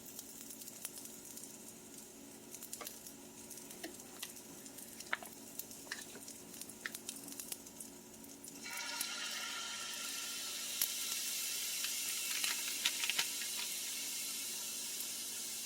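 Gochujang sauce is stirred into Korean fried rice with salmon in a hot pan, producing faint scraping and clicking at first, then a steady sizzle that swells and continues to the end.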